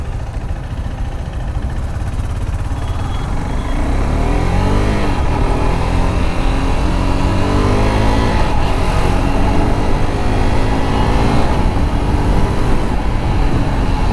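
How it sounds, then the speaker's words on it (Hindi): A KTM RC 390 motorcycle riding on a road, its engine droning steadily and rising in pitch as it accelerates, with continuous wind rush and loud, close engine noise throughout. "सही चल रही है भाई बाइक, एकदम बढ़िया चल रही है।"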